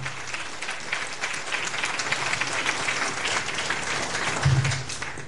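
A church congregation applauds in steady, dense clapping that holds for several seconds at an even level, with a brief low thump near the end.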